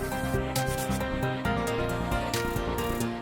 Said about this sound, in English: it's time for some sanding with the help of a sander